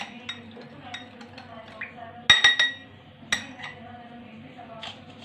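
Spoon clinking against a glass while stirring apple cider vinegar into a drink mix, a short cluster of bright metallic taps near the middle over quiet kitchen background.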